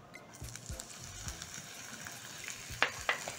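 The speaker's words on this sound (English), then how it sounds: "Saute the onions until soft." Onions sautéing in cooking oil in a pan for shakshuka, giving a quiet steady sizzle with a few soft stirring knocks and two sharper scrapes near the end, no talk.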